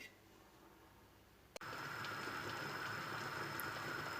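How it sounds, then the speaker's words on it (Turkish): Steady bubbling hiss of water boiling in a pot holding jars of tomato preserves, after a sharp click, continuous and close with no voices. "Konservelerimiz kaynadı"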